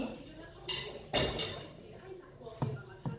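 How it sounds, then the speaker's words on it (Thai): Beef being stir-fried in a pan with a little oil, heard as a few clanks of a metal utensil against the pan and a faint sizzle in between, with quiet room noise and no clear speech. "ผัดเนื้อกันผัดเนื้อกัน ใส่พริกแกงเลย"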